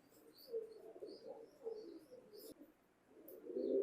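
Imported pigeons coo softly in low, rolling bursts at close range, with faint chirps scattered above and no talk.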